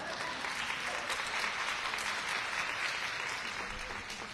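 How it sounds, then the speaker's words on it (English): Sustained audience applause at a food bank event in Houston for National Food Bank Day, steady dense clapping filling the whole stretch and tapering slightly at the end, with no talk over it. "That was an applause line."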